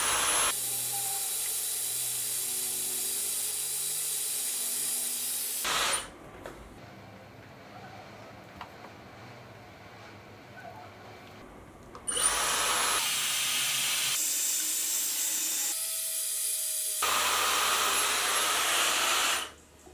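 A close, loud hair dryer blows heat through a diffuser onto curly hair in two long bursts, switching off for several seconds of near silence between them and cutting out again at the end.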